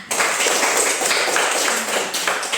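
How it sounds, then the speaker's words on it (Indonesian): A classroom of primary-school children claps together in a dense, steady burst of applause that carries at an even loudness for a few seconds, close and lively, with no voices standing out. "terima kasih, tepuk tangan"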